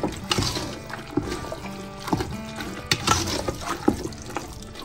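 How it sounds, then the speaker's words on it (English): Water from a tap splashes and pours into a cowboy beans mixture of barbecue sauce and beans, a close, wet, uneven trickle with bursts of louder splashing throughout. "Sometimes I add a little bit of water if it's a little thick."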